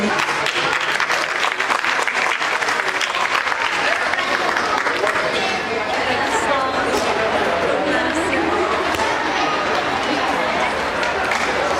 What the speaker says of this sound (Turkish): Alkışlarımız devam edebilir